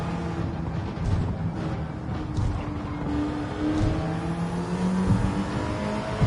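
Race car lapping a track in Gran Turismo 7 during a Tokyo endurance race, its engine droning steadily with rising and falling revs through gear changes, loud and continuous with faint tire noise.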